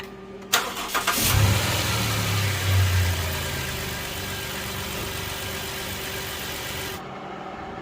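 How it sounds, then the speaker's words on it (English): A Dodge Caravan 3.3L engine with an oil leak cranks and catches, then settles into a steady idle hum up close, running smoothly until a heater fan hiss cuts off near the end. "let's start the engine idle for 15 minutes"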